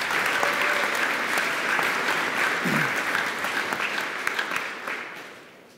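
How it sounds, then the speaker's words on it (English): An audience at a PyCon UK lightning talks session gives a steady round of applause, continuous clapping that holds for several seconds and then tapers off at the end. "Quick round of applause, please."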